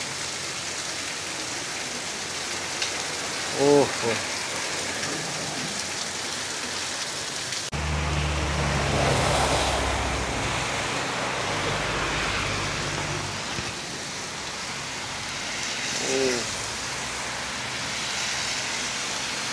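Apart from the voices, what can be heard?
heavy rain during a thunderstorm at Repulse Bay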